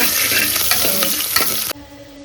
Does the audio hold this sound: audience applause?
no